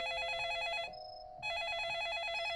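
In The Sleepover Experience video game, a telephone rings late at night with a loud, bright electronic bell tone, breaking off once for a short gap before ringing again, alone with no talk.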